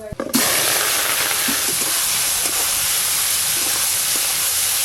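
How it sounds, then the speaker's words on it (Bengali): Prawns dropped all together into very hot oil, bursting into a loud, steady sizzling hiss with faint crackles, close up and sustained throughout. "তেল খুব ভালো করে গরম হয়ে গেছে, সব চিংড়ি মাছগুলো একসঙ্গেই ভেজে নেব।"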